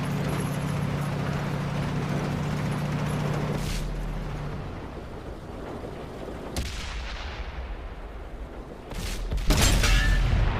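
Tank cannon shells fire in World of Tanks gameplay, each a heavy booming report with a sharp onset, the last blast near and loud over a steady rumbling engine and battle background, with no talk.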